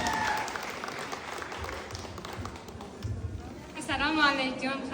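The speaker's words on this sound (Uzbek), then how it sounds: "Qanchalar olqishlarimiz bo'lsin." Applause from a wedding audience carries on throughout, a dense patter of clapping with crowd noise, and a voice rises near the end.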